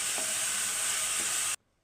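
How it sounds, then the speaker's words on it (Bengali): Ginger, garlic and tomato paste masala sizzles hard in a hot pan, a dense steady hiss with faint stirring scrapes that cuts off abruptly near the end. "টমেটোর কাঁচা গন্ধটা চলে যাওয়া পর্যন্ত মশলাটা কষতে হবে।"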